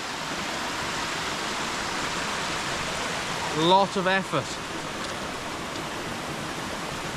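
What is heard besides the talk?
small waterfall in Clocaenog Forest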